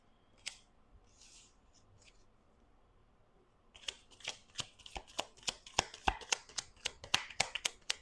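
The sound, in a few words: shuffling playing cards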